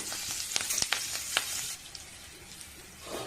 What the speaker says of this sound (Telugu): ఈ పచ్చిమిర్చి కొంచెం వేగనివ్వండి